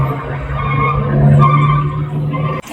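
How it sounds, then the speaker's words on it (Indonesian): Car steering through a turn with a loud knocking and creaking from the front end: a steady low drone with a grinding, squealing layer over it, close and continuous, ending with a sharp clunk. "Nah, ini bunyi kelutuk-kelutuk dan kemeretek saat belok jelas sekali."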